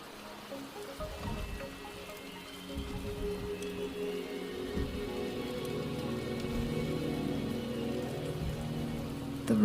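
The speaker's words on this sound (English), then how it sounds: "The rain is subsiding, and the sky will soon clear." Rain falls in the video game Wuthering Waves, a soft, steady patter of drops that builds gradually in loudness over the stretch, with a few low thumps early on and no talk.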